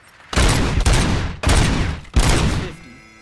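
Bursts of rapid gunfire at a shooting range in RoboCop: Rogue City, with three loud, dense volleys separated by brief gaps before the shots cut off into quiet.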